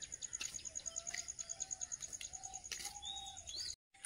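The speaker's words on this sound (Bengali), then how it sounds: "সকালবেলা পাখিগুলো সব যে যার খাবারের সন্ধানে চলে যাচ্ছে" Small birds chirp in the morning in a rapid, regular series of quiet high tweets, with a lower cooing call running underneath and a brief flutter before a short drop to silence.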